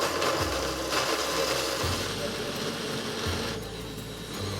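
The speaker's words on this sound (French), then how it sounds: "Voilà, on peut commencer à mixer." Blender whirring steadily as it purées potato and lettuce soup, a continuous mechanical hum with rhythmic low surges repeating every second or so, close and alone without talk.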